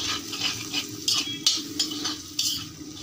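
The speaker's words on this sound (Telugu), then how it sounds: "ఇది కొంచెం ఫ్రై అవనిద్దామండి, ఆయిల్లో ఫ్రై అయితే బాగుంటుంది కదా." Chili powder, salt and turmeric fry in oil for a goat trotter shorva, with a steady sizzle broken by several sharp metal stirring scrapes against the pan, close up and with no talk.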